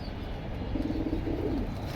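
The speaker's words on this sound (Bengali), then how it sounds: "কবুতর কালেকশন তো মাশাআল্লাহ অনেক আছে" Pigeons in a collection of caged birds give a soft, rolling coo partway through, faint over low background rumble and hum.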